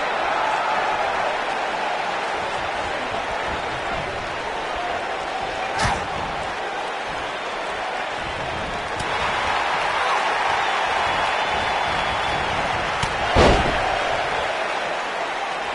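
In a wrestling video game, a loud crowd roars continuously while a few sharp thuds of slam impacts cut through, one near the middle and a heavier one toward the end.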